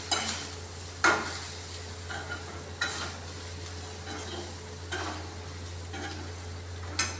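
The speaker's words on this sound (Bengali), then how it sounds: "এখন একটু এটা নাড়িয়ে নেব। আর একটু মশলাটা ভেজে নেব।" Mustard spice paste stirred and fried in a pan for a mustard-based potato and eggplant curry, with a soft steady sizzle broken by several sharp scraping clicks of the spoon at uneven intervals.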